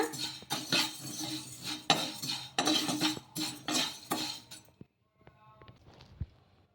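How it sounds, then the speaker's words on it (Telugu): Dry vermicelli roasting in a kadai, one cup of it, with a utensil scraping and clinking against the metal in repeated strokes for about five seconds before it falls quiet, followed by faint handling sounds. "ఒక కడాయి అయితే పెట్టేసుకొని ఒక కప్పు సేమియాని అయితే వేయించుకోవాలి ఇలా సేమియాని కొద్దిసేపు వేయించుకోవాలి"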